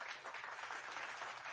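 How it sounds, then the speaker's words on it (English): An audience claps in a soft, distant, continuous patter of applause that holds evenly throughout. "Round of applause for everybody."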